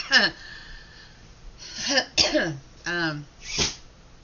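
A sharp sneeze bursts out at close range, followed by a brief voiced reaction and another short breathy burst.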